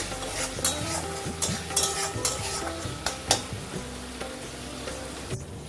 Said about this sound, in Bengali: মশলাটা ভালো করে ভাজা ভাজা করে দেবো